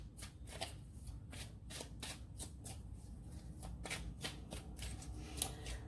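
Tarot cards being shuffled by hand, a close, quiet run of quick papery riffles and flicks in steady rhythm with no talk.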